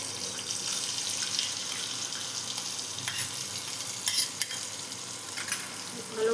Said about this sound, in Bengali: ভালো মতো ভেজে নেব।